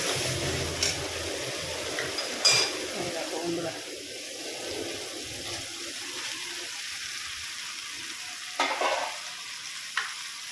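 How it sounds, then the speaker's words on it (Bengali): Fried chicken pieces being sautéed in a pan with a steady sizzle, a few spatula scrapes and clatters breaking through, and a voice talking faintly at times. "সেই চিকেনগুলো এর মধ্যে দিয়ে দেবো দিয়ে ভালো করে কষিয়ে নেবো"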